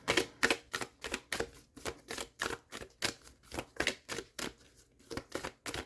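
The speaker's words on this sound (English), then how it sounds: "I'm gonna shuffle these up before I even start to pull yours" Tarot cards are shuffled by hand close up, a rapid, steady series of crisp riffling clicks and flicks repeating for several seconds, with no voices.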